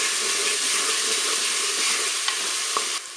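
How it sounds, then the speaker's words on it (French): Turkey escalope pieces and onions browning in a Cookeo multicooker, a steady close sizzle and crackle of frying with a few faint stirring clicks near the end. "Je vais pouvoir faire revenir mes morceaux d'escalope de dinde"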